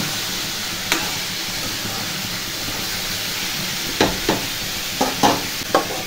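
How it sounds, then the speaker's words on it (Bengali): Bitter gourd and eggplant slices fry in a pan with a steady close sizzle and hiss throughout, broken by a few soft clinks of stirring near the end. "একটু উচ্ছে ভাজা আর বেগুন করছি, বেগুন ভাজা করছি।"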